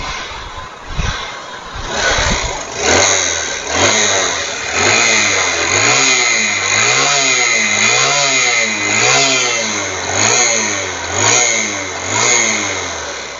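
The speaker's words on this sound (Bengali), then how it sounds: "বাইকের সাউন্ড প্রচণ্ড খারাপ আছে আর ধোঁয়া দিচ্ছে" A Honda Shine motorcycle engine runs rough and smoky, a loud mid-pitched idle with a regular wavering, lumpy pulse that surges and settles repeatedly, close by with no talk.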